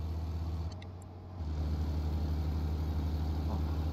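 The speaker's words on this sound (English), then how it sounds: "At least my engine sound hasn't cut out this time." A truck engine in American Truck Simulator hums at a steady low idle, dipping briefly, then swelling back to a constant, slightly louder drone with no talking.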